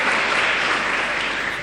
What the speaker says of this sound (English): Clap for Swami.